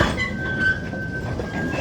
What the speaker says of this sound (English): there's the train engine